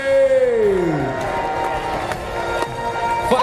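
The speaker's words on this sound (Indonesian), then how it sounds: "Sekali lagi berikan tepuk tangan meriah, Faisalasy." An arena crowd at a One Pride MMA event cheers and applauds a new atomweight champion. A loud falling tone opens the clip, then broad crowd noise continues steadily underneath with scattered claps.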